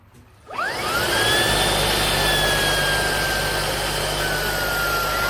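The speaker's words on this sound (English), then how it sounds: "So, all right, so this is the new Shark vacuum cleaner." A Shark cordless vacuum cleaner with a HEPA filter switches on and spins up with a rising whine, then runs at full power as a loud, steady roar with a sustained high tone.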